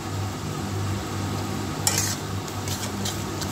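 Taro leaves and hilsa fish frying in a pan while being stirred, a low steady sizzle with a brief scrape and clink of the spoon against the pan partway through, no talking.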